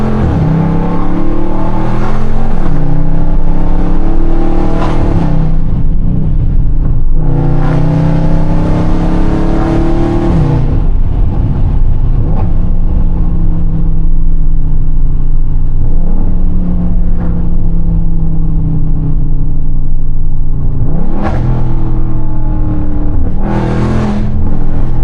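A stock Dodge Scat Pack's engine roars loud and close from inside the car while driving. It revs hard several times, rising and falling with deep rumbling swells and brief lulls between pushes.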